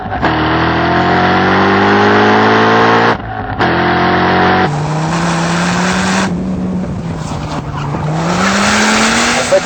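A high-performance sports car engine, a Dodge Viper SRT-10 V10 or Corvette Z06 V8, revs hard and climbs through the gears, loud and close, with a brief gap and shifts as the pitch rises and drops.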